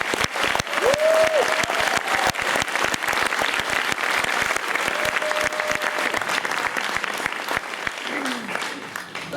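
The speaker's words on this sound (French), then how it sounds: "On peut l'applaudir, Adrián." Sustained audience applause at an awards ceremony, dense and steady throughout, with a few brief whistles or cheers rising over the clapping.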